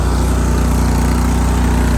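A small tractor engine runs loud and close with a steady, rapid putter that drones evenly without pause, alone with no voices.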